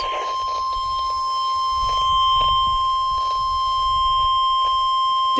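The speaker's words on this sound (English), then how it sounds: "This is a test of the NOAA weather radio warning alarm." A NOAA weather radio warning alarm test plays as a steady, loud, continuous high tone, with faint static and crackle underneath.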